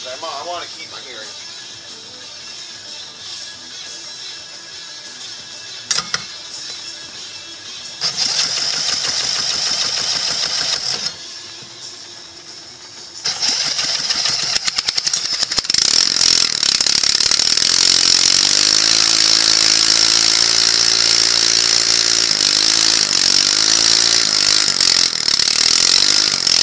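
Briggs & Stratton 3.5 hp small engine running wide open with no exhaust fitted, a loud harsh buzzing roar that shifts in level and revs, then climbs to a sustained full-throttle scream for the final ten seconds.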